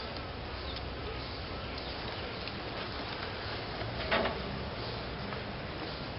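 Honeybees at a hive being scooped in give off a quiet, steady buzzing hum throughout, with a faint brief scrape midway.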